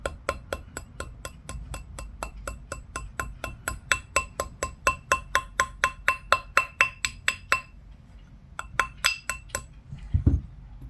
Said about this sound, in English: use your ball peen hammer to slightly texture it.